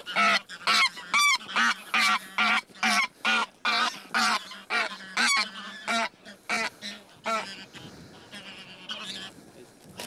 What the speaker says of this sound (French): Ce sont des oies d'élevage, donc ce ne sont pas toujours des espèces pures, sauvages.